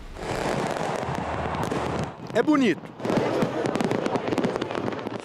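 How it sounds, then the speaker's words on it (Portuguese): Fireworks and firecrackers go off in a dense, crackling barrage of rapid pops and bangs around New Year's Eve, with a person speaking briefly over a short lull in the middle. "como evitar que os fogos de artifício estraguem a sua virada de ano"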